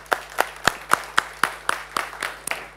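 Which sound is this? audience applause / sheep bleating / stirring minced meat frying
audience applause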